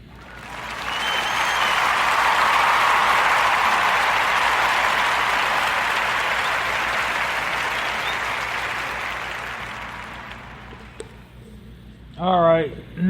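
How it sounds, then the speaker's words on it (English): Warm round of applause from a podcast audience, a dense steady clatter of many hands that swells quickly, holds for about ten seconds, then fades, followed by a brief voice at the end. "join me in the giving Miss Nika and her son Cameron a warm narrative podcast round of applause"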